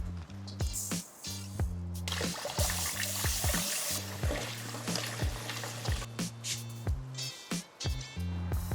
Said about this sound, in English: And now I'm gonna use a strainer to clean it.